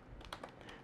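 Computer keyboard keys tapped in a brief burst while typing code into a web page, close and fairly quiet, with a few distinct clicks and no voices.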